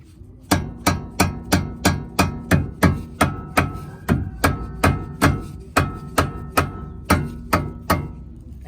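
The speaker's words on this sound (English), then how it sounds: "you're gonna wanna hit right at the top of the outer tie rod end where the bolt goes through" A hammer strikes the outer tie rod end on a 2012 Hyundai Veloster, about twenty sharp metallic whacks at a steady, quick rhythm, close and ringing, with a short pause partway through.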